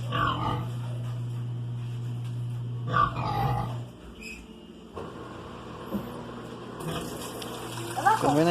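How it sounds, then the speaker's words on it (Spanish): A Winia washing machine drains water during its spin cycle, a steady pump hum running underneath with splashing and gurgling bursts, while a person talks over it. "Como ven, aquí ya está drenando el agua"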